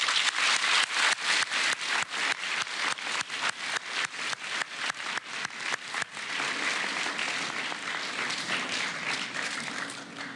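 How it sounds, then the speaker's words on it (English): An audience at a middle school closing ceremony bursts into sustained applause, dense overlapping clapping that stays loud for several seconds before easing slightly, with no voices over it. "let's give them a round of applause."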